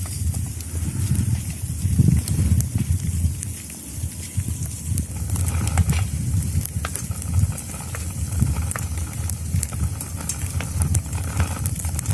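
Jaeger sauce being stirred and mixed into a wild boar stew, a steady wet sizzling and scraping texture with soft irregular clicks running throughout, close and moderately loud, with no talking.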